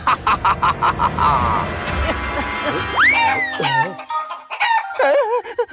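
A cartoon rooster crows a loud, close cock-a-doodle-doo with a rising and falling call, preceded by rhythmic clucking and music, then followed by more clucks and chatter in a Hindi children's cartoon.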